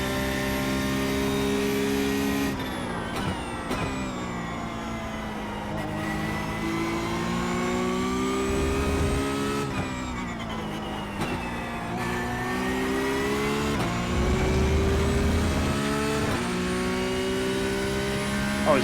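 Porsche Cup race car engine in iRacing at Sebring, screaming at high revs and bouncing off the rev limiter on the straight, with repeated stuttering cuts and gear shifts over a continuous loud drone from several cars.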